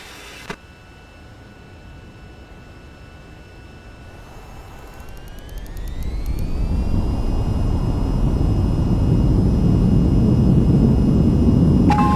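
Jet engine in the VTOL VR flight game spooling up to full throttle for a runway takeoff, starting as a quiet whine, then rising in pitch and swelling into a loud, steady roar that holds to the end.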